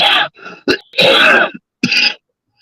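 A person clears their throat and coughs several times in short, rough bursts separated by brief pauses, close and fairly loud.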